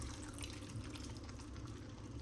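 Water poured into a pot of mutton curry for pressure cooking, a steady close splashing fill with low gurgling throughout, no voices.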